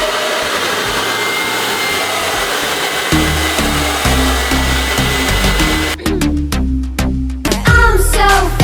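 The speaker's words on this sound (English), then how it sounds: "I'm gonna start blow drying" A handheld hair dryer blows hair straight with a round brush during an at-home blowout, a loud, steady, close whooshing roar that shifts in tone as it moves, with pop music joining partway through.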